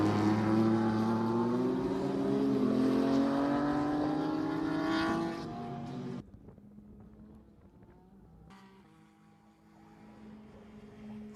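Race cars running on the Miami Grand Prix circuit: a loud engine roar rising in pitch as a car passes close, cutting off abruptly, then quieter, more distant engine drone with wind noise.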